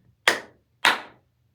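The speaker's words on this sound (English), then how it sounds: "So if I clap twice" Two sharp hand claps about half a second apart, close and crisp, each with a short decay, in an otherwise quiet room with no talking.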